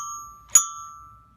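A small educational coding robot toy sounds a single bright electronic ding tone from its Jingle Bells melody, clear and close, ringing briefly then fading, with no talking.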